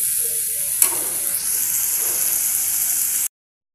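Khar kol leaves fry in a pan with a steady close sizzle, and a sharp knock from stirring comes early before the hiss continues and cuts off abruptly.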